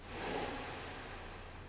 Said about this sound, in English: inhaling through the nose